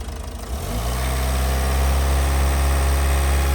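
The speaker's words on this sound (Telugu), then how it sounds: "సైలెంట్ ఉన్నది, గమ్ము అని ఉంటుంది ఇంజన్." A Ford car engine starts and settles into a steady, loud idle, a continuous low rumble close by with no other sounds.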